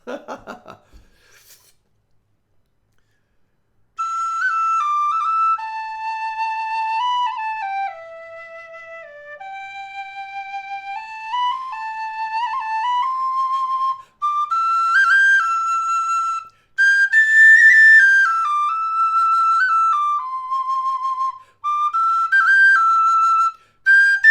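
A Thornton wooden high D whistle plays the air If I Were a Blackbird, a clear, pure solo melody of sustained notes in phrases separated by brief breaths, close and loud.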